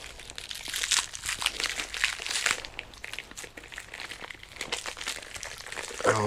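Plastic packaging around a power strip crinkles and crunches as it is unwrapped, a steady close rustle with sharp crackles and a few tearing bursts, no talking.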